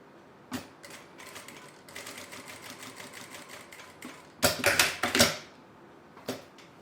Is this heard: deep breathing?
no